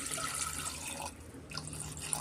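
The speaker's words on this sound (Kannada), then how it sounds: "ನಾನು ಮುಳುಗಷ್ಟು ನೀರು ಸೇರಿಸ್ಕೊಳ್ತೀನಿ" Water poured into a pot of spicy pork curry during cooking, a steady close splashing and trickling pour that runs through the whole moment with a slight dip midway.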